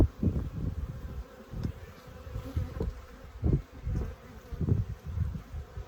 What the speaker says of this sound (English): all the bees flying are kind of fired up